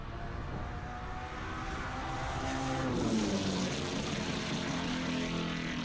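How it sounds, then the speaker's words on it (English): A race truck's engine at a speedway drones loudly and steadily as it comes down the front straight, its roar building and holding at close range. "But the truck sounds great"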